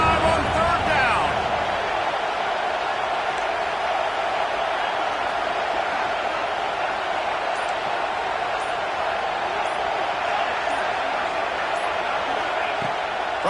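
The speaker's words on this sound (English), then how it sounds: "the Buckeye crowd alive on 3rd down" An Ohio State Buckeyes home football crowd roars steadily on a third down, a dense, loud wall of stadium noise under a play-by-play announcer's voice.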